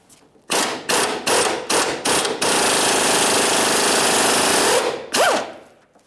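Impact tool loosening the 19mm control arm mounting bolt on a 2007-2013 Acura MDX: several short, loud rattling bursts, then one long sustained hammering run and a final short burst that winds down, close up with no talking.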